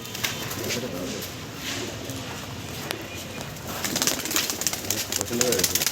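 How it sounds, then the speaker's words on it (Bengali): Released pigeons close at hand, low repeated cooing with bursts of wing flapping that grow busier toward the end, while someone talks throughout. "এই সব ছাড়া হচ্ছে পায়রা দেখুন দাঁড়িয়ে যাচ্ছে পায়রাগুলো"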